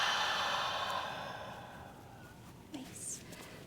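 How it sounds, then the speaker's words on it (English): A long, soft exhale through the mouth during a yoga flow, a breathy rush that fades out over a couple of seconds, followed by a faint brief sound and quiet. "Exhale through your mouth."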